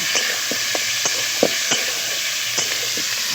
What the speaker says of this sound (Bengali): এবার তেলে ভেজে নেব। আর এই রেসিপিটার জন্য কিন্তু চিকেনগুলোকে ভাজতেই হবে